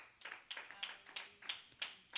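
Hands clapping in praise during a church Bible study, a steady rhythm of about seven clear claps, moderately soft and without other sound.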